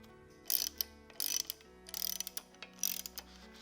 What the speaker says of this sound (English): Just gonna snug this banjo bolt down. Doesn't need to be overly tight.